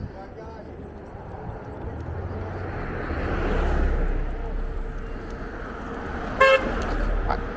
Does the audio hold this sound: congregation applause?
no